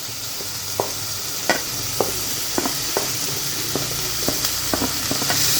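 Broad beans frying with softened tomato in a pan, a constant loud sizzle broken by repeated clicks and scrapes of a spoon stirring, close up with no voices.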